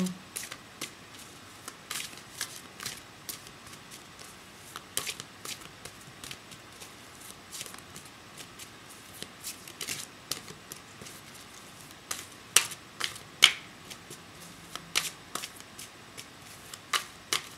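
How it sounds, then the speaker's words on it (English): Tarot cards are shuffled by hand in a quiet room, with soft riffling and tapping bursts spread irregularly through the clip, close but faint. "They see me shuffling."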